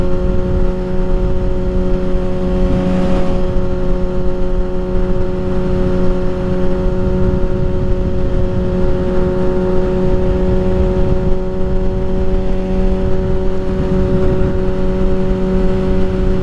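A tuned 2023 Kawasaki ZX-6R motorcycle hums steadily at a constant low-speed cruise, a close, even engine drone with a strong tonal note and wind noise, held back behind traffic without revving.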